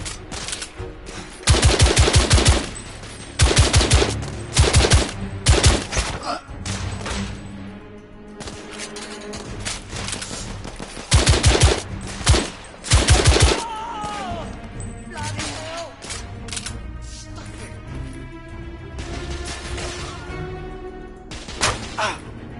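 Heavy gunfire from enemies in The Order: 1886 video game, repeated loud bursts of rapid shots in clusters separated by brief lulls, with impacts and scattered single shots between.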